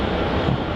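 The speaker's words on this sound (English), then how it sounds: "So we'll get a couple of heavy Dreamliner departures" Heavy Boeing 787 Dreamliner jet engines roar steadily on departure from Melbourne Airport, a broad continuous rumble with no talk over it.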